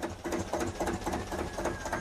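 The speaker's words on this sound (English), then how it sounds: "fire up his 25-year-old Russell Newbury DM2 engine" A 25-year-old Russell Newbury DM2 two-cylinder diesel engine on a canal boat starts and settles into a steady, close, loud chugging run with an even rhythmic knock.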